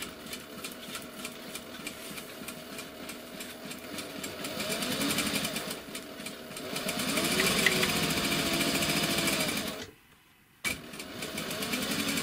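Household sewing machine running a stitch line through the middle of a piece of fabric, a steady close mechanical whir that swells slightly mid-run, cuts out briefly, then starts again.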